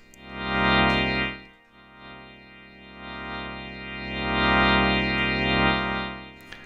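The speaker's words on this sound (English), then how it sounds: "And I'm hearing it's adjusting the amount of drive in the signal, which is what we want" Overdriven Hammond organ tone from a Yamaha CK61 with rotary simulation, a sustained chord whose grit and loudness rise and fall in slow waves as the expression pedal rocks, with one short gap mid-phrase.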